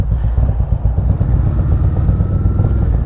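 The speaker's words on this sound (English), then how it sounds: "Riding on a bike that has the SNS 128 kit." A Harley CVO Road Glide fitted with an S&S 128 kit engine, rumbling loud and close with a deep, throbbing, lumpy exhaust beat and no talk.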